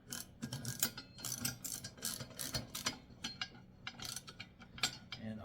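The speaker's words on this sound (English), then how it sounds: "with this wrench here, we'll tighten it down" A wrench ratchets as it tightens bolts on a VEVOR wheel dolly for moving cars, a dense run of close, quick metallic clicks and ratcheting with no talking.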